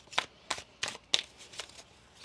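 Tarot cards riffle in a close shuffle, about six quick papery bursts spaced roughly a third of a second apart, crisp and moderately loud with no talking.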